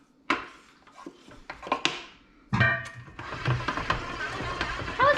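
Pumpkin spice dog treat dough is mixed in a bowl, with irregular clinks, taps and scraping knocks that build into a busier, continuous stirring clatter, fairly close and without talking.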